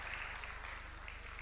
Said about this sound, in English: A round of applause for our daddy